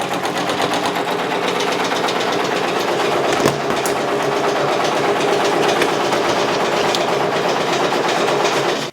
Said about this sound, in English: It's going to do the placement stitch for where my Velcro needs to be. And I have it stitching at 500 stitches per minute.